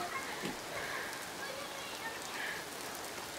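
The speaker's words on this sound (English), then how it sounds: "I don't know if you can see the rain, but it's coming down really hard." Heavy rain pours down hard in a continuous dense wash of patter, fairly loud and close, with no break through the whole stretch.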